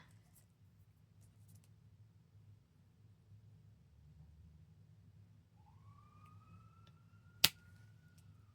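An emergency vehicle siren from a hospital emergency room two blocks away wails faintly, rising and falling over a low steady rumble, with a sharp click near the end.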